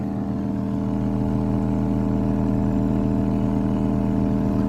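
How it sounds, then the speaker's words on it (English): Dense buzzing rattle of loose objects vibrating against each other from a 12-inch subwoofer playing a low tone, over a constant low hum, loud and steady without pause. "That sound you hear is all this stuff rattling."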